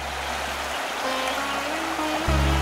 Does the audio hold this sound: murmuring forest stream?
yes